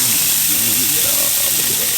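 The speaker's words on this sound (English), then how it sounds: "Look at that, get that sizzle." Steady, loud sizzling hiss of a ribeye steak searing in olive oil in a hot cast iron pan over medium-high heat, with a voice talking over it throughout.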